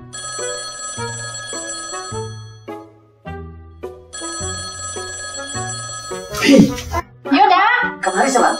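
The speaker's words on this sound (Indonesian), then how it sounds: "kok ada telepon" A melodic electronic ringtone plays repeatedly in a steady pattern, then a voice and other voices break in near the end.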